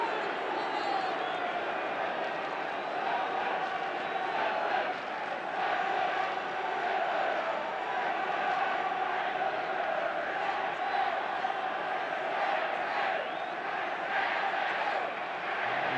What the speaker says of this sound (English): Crowd encouraged by that near thing,